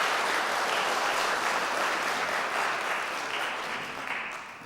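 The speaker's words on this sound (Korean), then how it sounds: "여러분들 환영의 박수 부탁드리겠습니다." A church congregation applauds during a Sunday morning service to welcome a newly registered member, steady sustained clapping from many hands that thins slightly toward the end.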